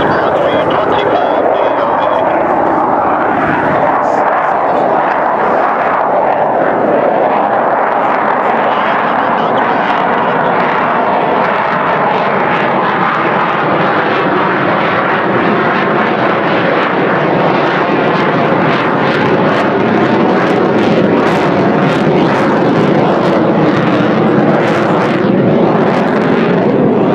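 Aircraft engine roar at the 2012 Alliance Air Show, a loud, sustained drone that swells and shifts as the plane passes, with an announcer talking over it.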